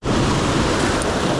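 Sea waves surge against rocks at a rock-fishing spot, a loud, close, unbroken wash of surf with no talk.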